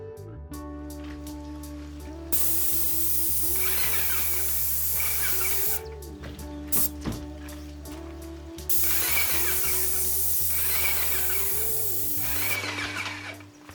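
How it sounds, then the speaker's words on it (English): A Harbor Freight airless paint sprayer sprays house trim in loud hissing bursts of a few seconds each, separated by pauses, over a steady motor hum from the pump. "We bought an airless paint sprayer from Harbor Freight and have been using that to spray all of our trim"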